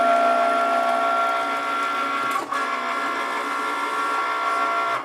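A Cricut Maker cuts material on a loaded mat, a steady close mechanical whir with motor hum and carriage movement and one short break in the drone midway.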